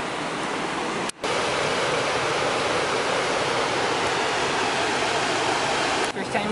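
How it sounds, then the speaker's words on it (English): Waterfall at a river roaring as a steady, loud, broadband rush of falling water, continuous throughout with brief dips near the start and end. "Do you like the waterfall"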